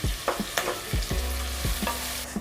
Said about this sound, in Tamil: வெங்காயம் நல்லா ப்ரௌன் கலராக மாறுற வரைக்கும் நல்லா வதக்கிக்கோங்க.